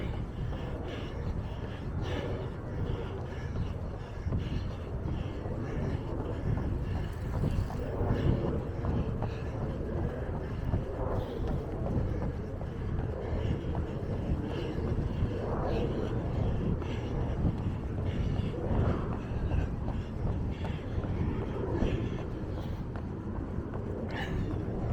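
Steady wind buffets the microphones for the whole stretch during a run beside the Quivira jetty, a constant rumbling roar with no breaks and no talking.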